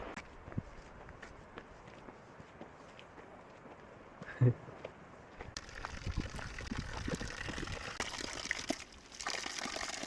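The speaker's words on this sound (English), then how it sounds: "Show everyone that little waterfall there, if they can see it." A small waterfall runs steadily on the road from Tbilisi to Kazbegi in eastern Georgia. The broad rush of water swells louder in the second half, with scattered footsteps and faint voices nearby.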